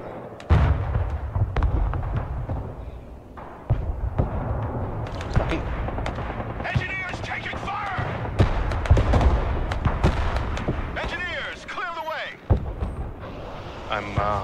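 Artillery strikes in the Broken Arrow war game, dense repeated booming blasts and crackling impacts rolling on for the whole stretch, loud and busy, with faint radio-style voice chatter mixed in.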